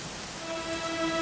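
Rain falls steadily in the Dragon Quest XI role-playing game, a continuous even hiss of rainfall with a soft tonal hum beneath, no voices.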